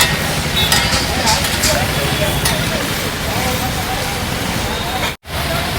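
Garlic-ginger paste and capsicum sizzle hard in a pav bhaji tempering, a steady broadband crackle that holds loud throughout with a brief dropout near the end.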